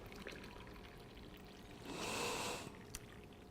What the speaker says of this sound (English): And you fill it up with some boiling hot water.